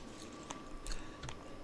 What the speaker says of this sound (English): as you start chewing in